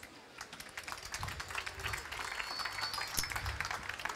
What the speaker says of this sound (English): So please give a warm applause for Nils.